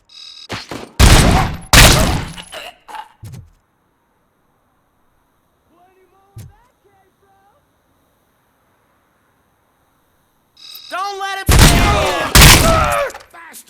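Gunfire in a video game shootout: two loud bursts of rapid shots near the start, a single sharp shot midway through a quiet stretch, then another heavy volley near the end, with shouting voices between.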